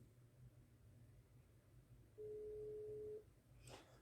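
A single steady ringback tone sounds on an outgoing phone call for about a second, loud and clear over low background hum, with a short burst of noise just after.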